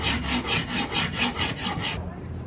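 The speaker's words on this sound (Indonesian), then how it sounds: "diamplas, dihaluskan dengan menggunakan amplas kayu" Wood being sanded by hand with wood sandpaper: steady rhythmic back-and-forth rasping strokes, close and loud, about eight quick passes before stopping.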